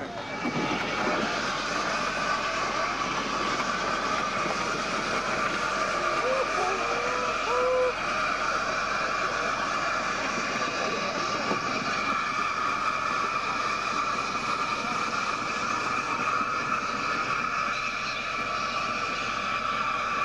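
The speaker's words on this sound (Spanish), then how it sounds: "Lo apasionante de este cremallera es que sus trenes son remolcados por 8 locomotoras de vapor" A steam locomotive on the Brienz Rothorn rack railway in Switzerland runs with a loud, steady rumble and hiss that holds unbroken for the whole stretch, while faint voices sit beneath it.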